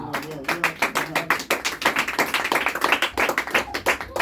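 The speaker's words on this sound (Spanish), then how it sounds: "Dale un fuerte aplauso para Él." Dense, continuous applause from a church congregation, many hands clapping rapidly and loudly, with faint voices underneath.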